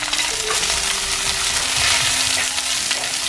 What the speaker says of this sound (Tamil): இது நல்லா வதங்க விடணும்.